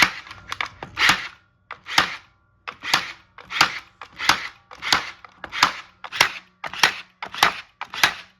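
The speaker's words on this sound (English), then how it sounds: "I'm shooting this right into a knot on the ground. So I'm pushing hard. Let's shoot these." A Milwaukee M12 cable stapler driving staples into wood, hard against a knot, fires a series of about a dozen sharp, loud, snapping shots at a steady rhythm of roughly one per second, close up and alone.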